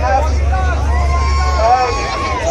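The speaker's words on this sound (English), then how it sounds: "I hear the crowd on that one." A crowd at a car meet costume contest cheers and shouts in a dense, loud babble of overlapping voices, with a low engine-like hum underneath that stops partway through.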